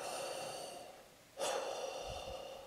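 Deep, slow breathing imitates Darth Vader's mechanical respirator: a long hissing inhale, a brief pause, then a rasping exhale with a soft low thump, close and alone.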